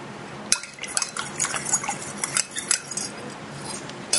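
Meat and bouillon being mixed in a bowl with a utensil, with close clinking and scraping against the dish and wet squelching stirs in an uneven rhythm.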